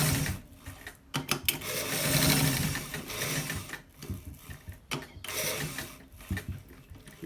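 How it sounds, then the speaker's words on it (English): Sewing machine stitching a shirt collar, running in bursts of steady whirring with short pauses and stops between runs, close and fairly loud. "Please watch it carefully so that you're able to see how I am stitching it"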